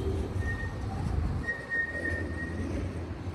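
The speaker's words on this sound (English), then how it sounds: "Tram just coming out of the depot." A tram pulling out of its depot on the Talbot Road extension, with low rumbling and steady rolling noise, a faint high wheel squeal drawn out over the middle, heard fairly close with no talking.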